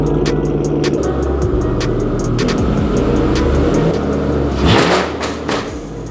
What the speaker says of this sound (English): we're gonna go ahead and give the Mustang a cold start